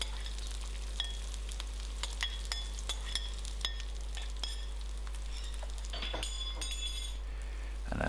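Char siu fried rice tossed in oil and ginger in a hot pan, a steady low sizzle running throughout with scattered light clinks and scrapes of a utensil against the pan, louder scraping near the end.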